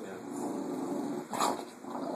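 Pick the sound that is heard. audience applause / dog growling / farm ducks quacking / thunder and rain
dog growling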